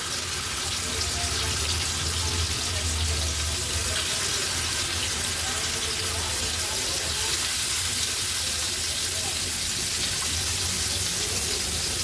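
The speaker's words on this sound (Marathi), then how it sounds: "आता एक एक करून ह्या मुडदोशा मी तेलावर सोडते" Ladyfish (muddosha) dropped into oil on a tawa over low-to-medium flame, giving a dense, steady sizzle that holds at an even level throughout with no voices.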